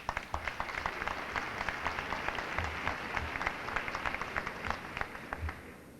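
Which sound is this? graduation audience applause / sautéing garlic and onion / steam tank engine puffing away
graduation audience applause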